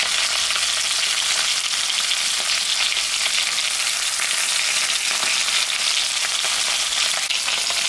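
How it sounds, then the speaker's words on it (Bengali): Fish frying in hot oil, a loud, dense, continuous sizzle held steady throughout, heard up close with no voices. "এখন আমি মাছটা ভাজবো।"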